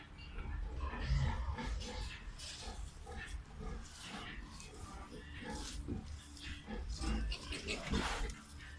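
Pigs grunting and oinking in a Danish conventional pig farm barn, dense overlapping grunts and snuffles from several animals close by, with a steady busy din throughout and no clear talk.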